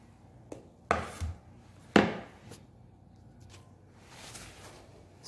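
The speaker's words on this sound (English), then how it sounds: "chop my pineapple small chunks." A knife cuts fresh pineapple into small chunks on a board, giving a few sharp, separate chops with quiet pauses between them, close and clear.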